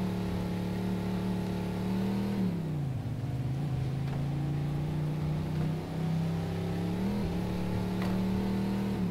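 Car engine revving steadily with pitch dips and rises as the car slides around turns in Mafia 2, a continuous close drone with no talk.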